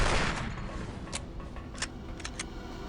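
Gunfire from the video game Alien vs Predator 2 pours into bodies, with a rush of broadband noise followed by a few sharp, crisp shot cracks spaced irregularly.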